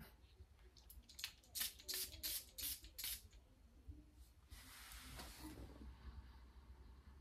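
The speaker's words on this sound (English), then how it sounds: "Let me spray it again." Several quick spritzes from a perfume spray bottle in a rapid burst, followed by a longer hiss of spray, close and fairly quiet.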